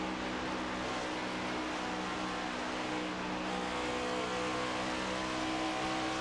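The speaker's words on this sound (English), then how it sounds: "3-car battle for second, as White is more than 3/10 out in front here." Several race cars in the iRacing simulator at Auto Club roar together in a continuous, steady engine drone, sounding like a close pack running flat out with no break in the noise.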